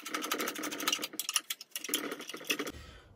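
Screws being undone on the housing of a 1990s Philips MA60 low-pressure sodium street light, heard as a dense, rapid run of buzzy mechanical whirring and clicks, close and fairly loud, with short pauses and no talk.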